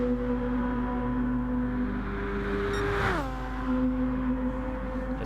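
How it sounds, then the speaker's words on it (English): Engines of 1997 Formula One race cars in Gran Turismo Sport, a steady high-pitched multi-cylinder whine holding level, then dropping sharply in pitch as a car passes by or downshifts near the three-second mark, continuous and loud with no talk. "Those cars make an amazing sound"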